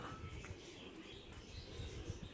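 Many pigeons coo in a crowded loft during bird selection, a dense murmur of low, throaty cooing with scattered chirps that continues steadily throughout.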